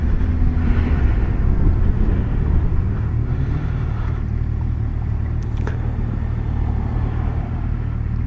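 A 2017 Kawasaki Versys 1000 motorcycle creeping along at low speed, its engine a steady, close, low rumble mixed with wind buffeting on the microphone and no speech.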